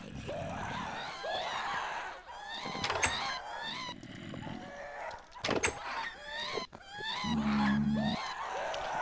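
Distorted, wailing screams and shrieks repeat over a dense, noisy backdrop in the SCP Craft game, with bursts of harsh tones and a low droning hum near the end.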